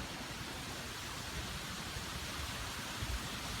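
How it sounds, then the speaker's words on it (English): Steady, dense rush of falling water from a waterfall in Central Park's North Woods in New York City, a constant broadband roar with no talking. "There's a waterfall in the middle of New York City"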